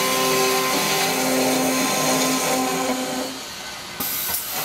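A Doringer D350 SA saw cuts through metal tubing with a steady loud whine and hiss that drops off near the end as the cut finishes.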